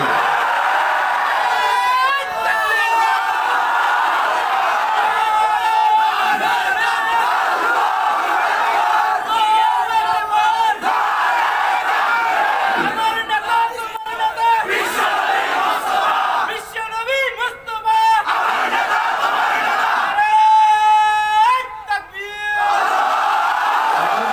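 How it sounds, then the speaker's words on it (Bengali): A large crowd chants and roars a religious slogan in loud surging bursts, with voices rising and falling in waves and brief lulls between the shouts. "যদি তোমাকে স্লোগান দিতেই হয়, ওমরের মতো আল্লাহু আকবারের স্লোগান দিতে হবে।"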